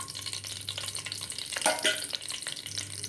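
Ginger garlic paste sautéing in a pan, a close crackling sizzle with busy stirring scrapes and a louder burst of spattering partway through, over a low steady hum.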